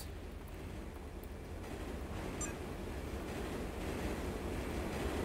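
A train in the video game Turok 3 rolls along its tracks with a steady, dense rumbling roar that grows slightly louder, heard alone without speech.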